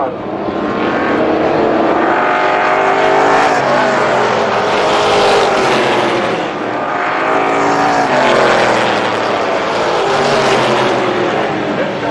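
Race cars roaring side by side while battling for the lead on the opening lap of a motorsports event, a loud, continuous engine drone that swells and fades as they pass, with announcer commentary over it.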